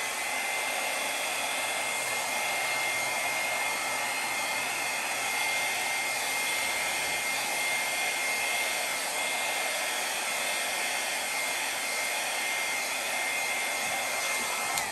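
A hair dryer blows air over poured red, brown and metallic acrylic paint on canvas in a Dutch pour. A steady, loud, unbroken rush of airflow runs throughout with no talking.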